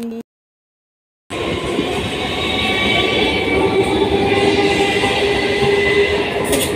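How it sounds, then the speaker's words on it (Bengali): At a railway station, a train rumbles past loud and close in a sustained, steady roar with faint rail clatter, after a short silent gap at the start. "আমরা দেখো চলে এসেছি স্টেশনে"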